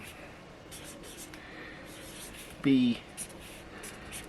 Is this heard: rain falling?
no